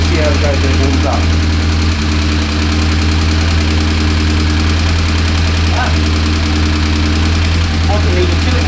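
Morris Minor Traveller engine idling steadily just after starting, not yet fully warm, with a continuous low hum and faint irregular knocking that runs the whole time, close and fairly loud.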